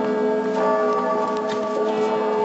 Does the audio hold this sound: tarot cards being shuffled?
no